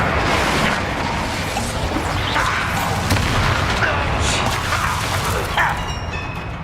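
A Confringo explosion spell cast in the video game Hogwarts Legacy, heard as a steady, dense roar of crashing, booming blasts and whooshes that fills the whole stretch, with no break in the noise.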